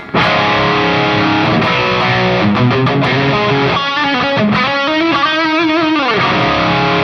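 An electric guitar played through a Mooer GE-250 running a Friedman BE-100 amp model with reverb rings out loud and distorted, with sustained driven chords, then bending, singing lead notes that trail off into reverb.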